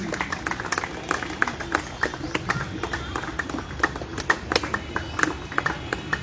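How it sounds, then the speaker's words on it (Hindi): A crowd claps at a retirement function for electricity workers held at a temple, the applause uneven and continuous with sharp individual claps standing out, fairly distant and without any speech. "तालियां बजती रहें"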